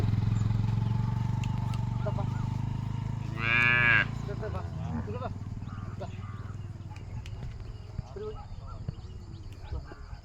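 A cow moos loudly around fifteen minutes after giving birth to a calf, a single drawn-out call rising over steady outdoor background noise and low rumble on a farm.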